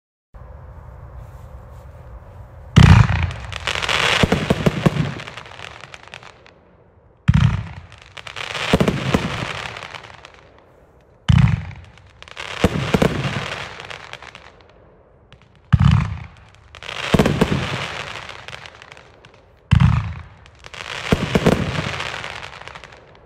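A 25-shot Fade to Red fan-shaped firework cake from Sky Bacon fires in loud sharp launches, each followed by crackling bursts, spaced every few seconds across a long sequence outdoors.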